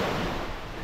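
Ocean waves wash onto a beach at Koh Chang, Thailand, a brief, steady broadband roar of surf with some wind, heard alone.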